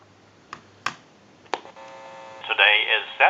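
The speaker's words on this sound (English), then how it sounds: "we can use a tone dialer to call a time and temp number" A tone dialer sends a rapid run of DTMF beeps down the line of a converted candlestick telephone to call a time and temperature number, preceded by a few sharp clicks and a brief steady tone.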